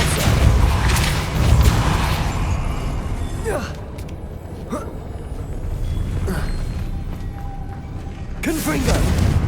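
The Depulsor spell in Hogwarts Legacy is cast repeatedly, producing several sharp whooshing bursts and heavy booming impacts spaced a couple of seconds apart over low rumbling game ambience, with a voice speaking the spell name.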